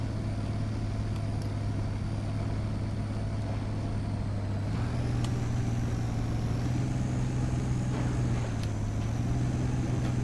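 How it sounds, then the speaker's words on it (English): Heavy off-road truck in the SpinTires video game, with a steady loud engine drone that shifts pitch as it labors through mud and water, plus occasional faint knocks and clatter of the body banging around. "You can kind of hear the truck banging around."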